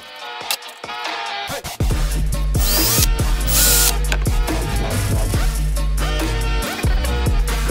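A power drill bores holes into wood through a drilling jig, whining as it revs and then grinding steadily for several seconds under load, loud and close.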